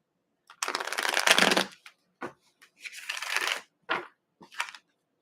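A tarot card deck is riffled and shuffled in crisp, close bursts: one long rustling run, then several shorter flicks and snaps separated by silence.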